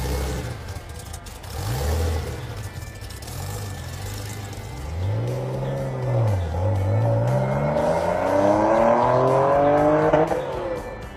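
Custom car engine starts and runs, then revs repeatedly with rising and falling pitch and builds to a strong, loud roar, close by with no talking.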